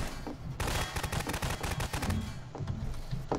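Rapid video game gunfire aimed at a bathtub, a fast run of sharp cracks in steady bursts, fairly close and continuous for a few seconds.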